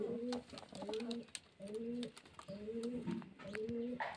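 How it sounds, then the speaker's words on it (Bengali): Racing pigeons, including a running female and a steel-coloured bird, coo in repeated throaty phrases, several rounds in a row, close by with some light background noise. "খুব সুন্দর বাজির পায়রা।"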